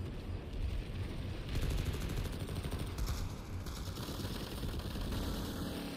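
Gunfire in the Planetside 2 video game, dense rapid bursts of automatic fire mixed with heavy booms and engine rumble, constant and fairly loud with no talk.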